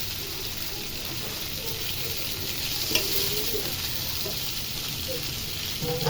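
Potato pieces frying and being turned in a pan while making tehari give off a steady, close sizzle, with soft stirring scrapes and small pops running throughout.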